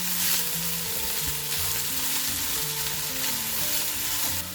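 Broccoli omelette mixture with salt being stirred in a hot pan, a steady close sizzle of frying with soft stirring scrapes running throughout, no voices.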